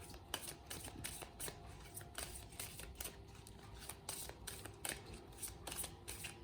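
Tarot cards are shuffled close up, a dense crisp riffling and flicking that continues through the whole stretch with small bursts, no voice over it.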